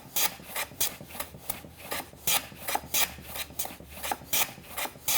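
A hand plane strokes along a wooden component for a dovetail box, a close, regular series of about a dozen rasping shaves, each a brief scraping burst separated by short pauses.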